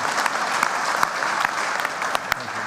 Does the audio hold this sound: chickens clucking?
no